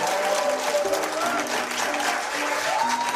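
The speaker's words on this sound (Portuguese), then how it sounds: "Palmas pra ele." A studio audience bursts into sustained applause, dense clapping that fills the short moment, with a voice or music faintly underneath.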